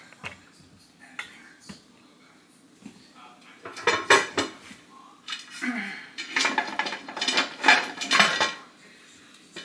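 Metal lid set onto a pressure canner loaded with eight wide-mouth pint jars of venison, giving a series of near, loud clanks and scrapes that build in the second half, with quieter clinks earlier.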